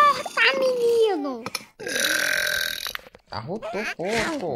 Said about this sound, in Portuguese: Arrotou o porco!